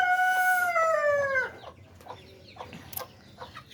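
Poultry chickens about a month and a half old call from a farm. A drawn-out harmonic crowing cry opens, then fainter scattered clucks and rustles follow.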